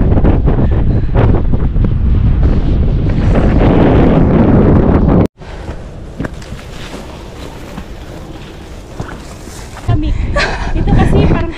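Strong wind buffets the microphone on a hike on Tung Lung Chau island in Hong Kong, a loud roar that drops after a few seconds into gustier rumble with voices talking over it.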